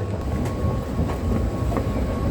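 A Dubai Metro train in a station, heard as a steady, loud rumble of rail running with faint clatter throughout and no voices over it.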